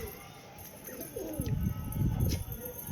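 Low coos of a fighting pigeon rise and fall over steady wind noise outdoors, a few soft throaty calls close by.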